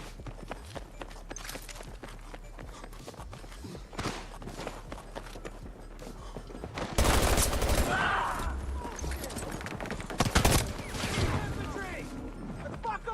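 Battlefield combat: scattered distant gunshots and footsteps build into loud, rapid bursts of automatic fire and explosions in the second half. Excited shouting and talk run over the shooting.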